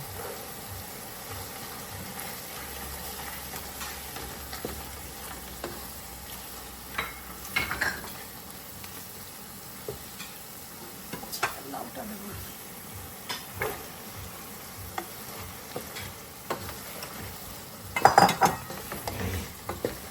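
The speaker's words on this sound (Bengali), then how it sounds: "তো আমরা এখন দিয়ে দিলাম লাউ বিনস তারপরে হলো গাজর" Bottle gourd, beans and carrots cook in a pan, with a low sizzle under repeated spatula scrapes and metal clinks that grow busier and louder toward the end; no one speaks.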